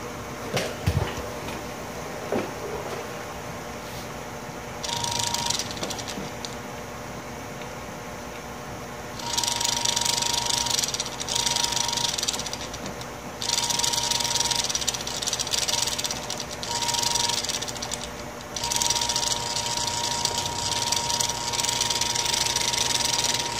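An old electric fan's motor runs with something rubbing inside, giving a steady low hum broken by repeated bursts of scraping rattle every few seconds.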